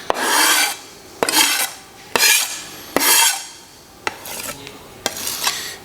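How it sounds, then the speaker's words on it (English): A spoon scrapes and stirs through tzatziki with chopped dill and olive oil in a bowl, loud and close, in rhythmic rasping strokes broken by sharp clinks against the bowl. "now we're going to mix this well"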